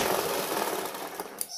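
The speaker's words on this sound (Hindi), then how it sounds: "यहाँ पे भी हमको जॉइंट को एक साथ सिलाई लगा लेना है।" A sewing machine runs steadily, stitching the joint of a pillow cover with a dense, even mechanical rattle that slows and stops near the end.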